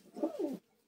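A single soft, low coo from a desi pigeon on a rooftop rolls out for about half a second, close and clear, then fades into quiet.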